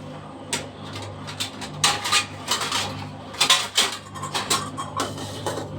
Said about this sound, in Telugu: మూత పెట్టాను